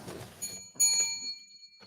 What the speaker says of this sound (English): I don't need to download a bell. I have an actual bell.